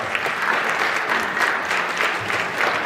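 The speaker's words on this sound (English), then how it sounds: "Give them a round of applause as well." An audience at a Black History Month celebration applauds honorees with steady, dense clapping that fills the whole stretch at an even level.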